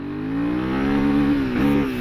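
Loud, close engine of a Royal Enfield Himalayan motorcycle accelerating in first gear, the revs rising smoothly with a brief dip near the end.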